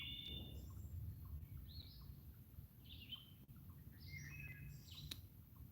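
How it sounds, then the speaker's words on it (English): Birds sing and chirp in quiet woods, with several short, bright calls scattered across the stretch at moderate distance over a low, steady background hum, and no talking. "let me be quiet for a second to hear the birds"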